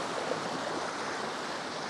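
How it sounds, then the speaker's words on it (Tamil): Small streams of water trickle at Cholamala waterfall in Wayanad, Kerala, a soft, even rushing hiss heard fairly quietly and without a break, with no voices. "குட்டி குட்டியாக தண்ணி தான் வருது"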